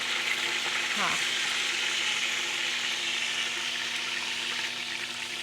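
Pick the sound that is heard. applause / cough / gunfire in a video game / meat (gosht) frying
meat (gosht) frying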